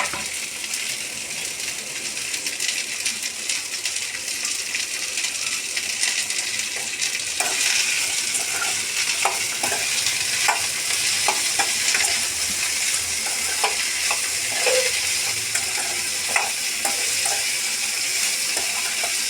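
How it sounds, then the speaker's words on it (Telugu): Okra sizzles in hot oil in a pan as it is stirred, a continuous bright hiss with intermittent scraping and clicking from the spoon, with no talking. "నూనెలో బెండకాయలు వేసినాక బాగా కలబెట్టేసుకునేసి కొద్దిగా సాల్ట్ వేసుకుందాం ఒకేసారి"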